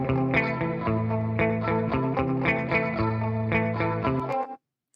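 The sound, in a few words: audio delay effect on octave-up pitched signal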